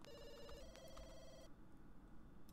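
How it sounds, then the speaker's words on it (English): A telephone rings in The Sims 2 life-simulation game, a bright electronic trill repeating for about a second and a half before cutting off, leaving quiet game ambience with no talk. "Oh, our phones are ringing."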